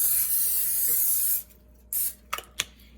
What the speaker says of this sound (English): You're going to spray the pan.